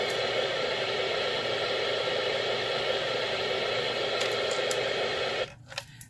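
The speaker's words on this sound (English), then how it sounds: "The white noise sound that you were hearing." A white noise sleep therapy machine emits a dense, steady hiss at close range, constant until it cuts out abruptly near the end, leaving a few faint clicks.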